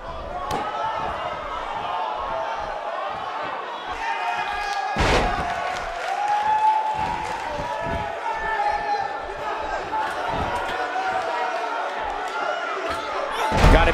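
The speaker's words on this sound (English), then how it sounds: "would you listen to the buzz of this Tucson crowd?" A Tucson crowd at a 1985 GLOW extreme rules mixed wrestling match keeps up a steady, loud buzz of overlapping voices, punctuated by sharp slams and thuds from the ring.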